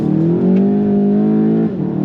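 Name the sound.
2017 VW GTI with DSG accelerating hard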